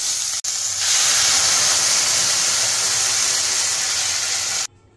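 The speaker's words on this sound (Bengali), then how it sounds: "এবার এতে জল ঢেলে দিচ্ছি।" Water is poured into a pot holding chicken seasoned with salt and pepper for a winter vegetable chicken soup, giving a steady, loud rushing hiss for about four seconds that stops abruptly.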